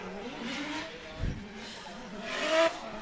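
A 600-horsepower drift car with a 2JZ engine launches off the line at a drift championship qualifier, its engine revving in short bursts with tire squeal, heard at a distance amid crowd noise.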